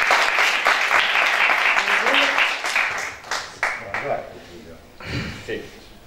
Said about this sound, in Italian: Un bel applauso per Giulio.